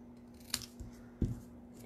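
Paper being snipped with scissors to make a small banner for a stamped greeting card, with a few crisp close cuts and a soft low thump after one of them, heard alone in a quiet room.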